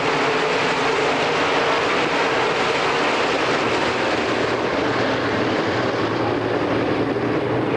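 A pack of race cars at a 1997 STARS event at Penn National, running the Pro Shox B Main, makes a steady, dense engine roar with no break.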